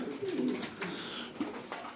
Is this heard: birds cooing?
yes